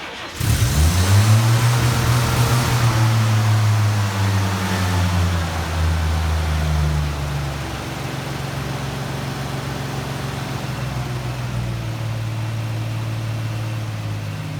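Carbureted truck engine just after starting, revving loudly at first, then easing down into a steady, humming idle that runs on unbroken.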